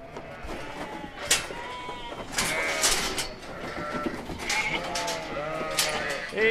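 Sheep and lambs bleating repeatedly and overlapping while being shed out of a pen on a farm, a mix of higher lamb cries and deeper ewe calls, fairly close, with a person talking at times.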